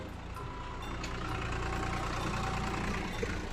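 A tractor missing its tyres sits with its engine idling, a steady mid-to-low rumbling hum that holds at an even, fairly close level throughout.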